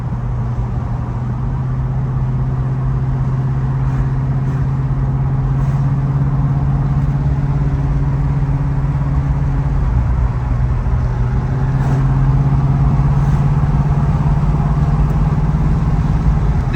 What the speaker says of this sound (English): We're taking a ride in a beautiful dark blue 1976 CAMARO Type LT, 350 automatic transmission